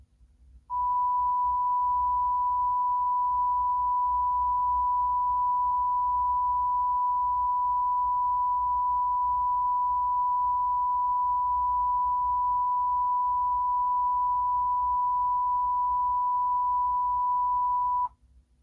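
A steady pure left-channel calibration test tone from a 1982 cassette sounds continuously for about seventeen seconds at a constant level, starting and stopping abruptly over faint low hum.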